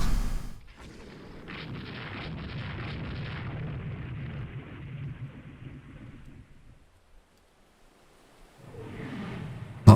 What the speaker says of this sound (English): Lots of shooting destroyers at this point.